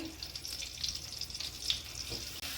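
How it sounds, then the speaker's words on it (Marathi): Khoa roasting in ghee in a kadhai, giving a faint, steady sizzle with soft crackles, quiet and close with no talk over it. "खवा भाजायला तुपामध्ये छान भाजून घ्यायचं आहे"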